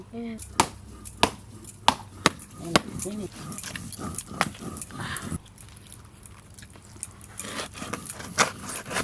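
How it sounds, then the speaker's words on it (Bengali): A knife chops through a catla fish head in a series of sharp, heavy thuds, spaced irregularly and close, with a voice talking between and over the cuts. "এবার কাতলা মাছের এই মাথাটা কেটে নেব।"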